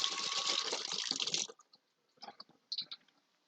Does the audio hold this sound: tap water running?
yes